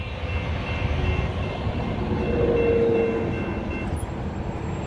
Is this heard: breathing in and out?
no